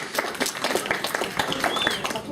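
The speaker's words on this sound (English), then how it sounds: "Applause and anticipation." Audience applauding at a lecture event on the Kennedy assassination, a steady patter of many hands clapping with murmured voices mixed in throughout.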